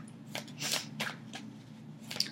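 Quiet, close shuffling of tarot and Lenormand cards, with soft papery riffles and slides in several brief bursts and no talk.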